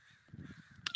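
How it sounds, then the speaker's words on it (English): Outdoors, low murmuring sounds give way to a sharp, fairly close crow caw at the end, followed by a brief second call. "The birds are getting louder."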